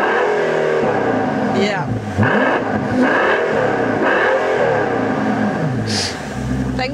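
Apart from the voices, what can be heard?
Mercedes-Benz S65 AMG V12 engine revving and accelerating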